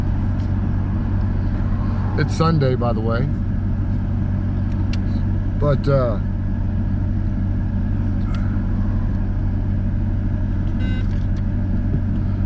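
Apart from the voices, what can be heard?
car traffic noise while driving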